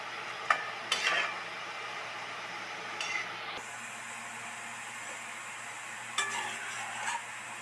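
Boondi made from gram flour batter with a little turmeric fry in hot oil with a soft, steady hiss, punctuated by a few bursts of louder sizzling and metallic clinks and scrapes from a utensil.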